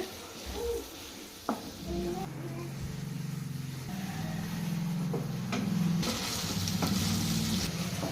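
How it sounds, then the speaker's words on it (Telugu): Ginger garlic paste frying over a low flame in a pan for beef pickle, a steady sizzle with occasional stirring scrapes and soft clatter, while a voice talks intermittently over it. "ఇంకా సిమ్ లోనే పెట్టుకొని బాగా ఫ్రై చేసుకోవాలి"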